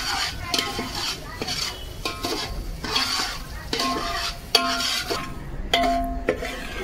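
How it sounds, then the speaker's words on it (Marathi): Semolina roasting in ghee for prasad is stirred with a spoon in a pan, giving rhythmic scraping strokes about twice a second over a soft, close sizzle. "रवा चांगला तुपामध्ये लाल होईपर्यंत शेकून घ्यायचं"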